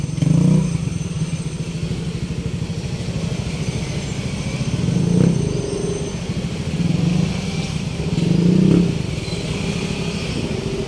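Motorcycles ride into a river eco park in Pangil, Laguna and pull in to park, with engines rumbling and revving in waves that swell and fade at moderate distance.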